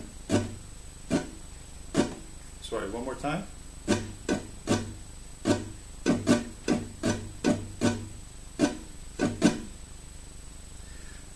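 Strummed guitar rhythm with the strings muted, giving a steady run of dry, percussive chops, close and fairly loud; a brief voice breaks in partway through.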